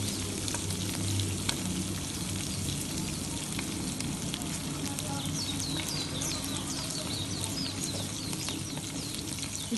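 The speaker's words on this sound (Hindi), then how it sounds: "थोड़ा सा इसको भूनेंगे" Chana dal masala with green chillies fries in a pan, a steady dense sizzle with crackling running throughout at close range, with no talk.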